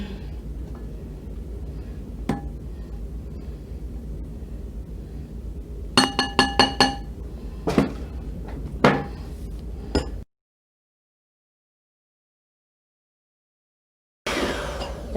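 A spatula scrapes down a bowl of stiffly whipped dalgona coffee, giving a series of light clinks and taps against the bowl. The sounds come close together, followed by a stretch of silence.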